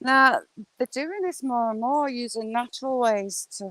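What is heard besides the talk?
None of the usual background noises is heard.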